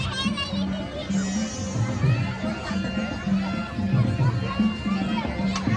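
A busy festival game zone for children in Charkop, Kandivali, fills with crowd chatter and kids' shouts and squeals that rise and fall steadily, with voices close and far layered together.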